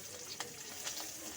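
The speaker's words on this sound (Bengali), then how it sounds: "পটলগুলোকে দিয়ে কিন্তু একটু লাল করে কিন্তু ভাজতে হবে।" Pointed gourd frying in oil gives off a soft, steady sizzle, faint and continuous, with a couple of light stirring taps.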